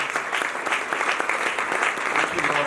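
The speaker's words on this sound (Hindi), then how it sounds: "आइए तालियों के साथ हम जिंदा कलाम के लिए खुदा की शुक्रगुजारी" Church congregation in Rawalpindi applauding in thanks to God, a steady, fairly loud burst of many hands clapping at once that continues briefly without a break.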